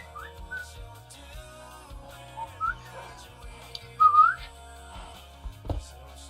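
A person whistles a wobbly, uneven tune in short broken phrases, faint at first and louder midway, with quiet thumps and a low hum underneath.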